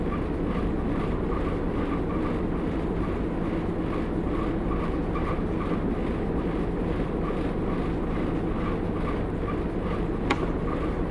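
A train on the Great Central Railway in Train Simulator 2015 runs in winter with a continuous, steady rumble, a faint rhythmic pulse and one brief sharp tick near the end.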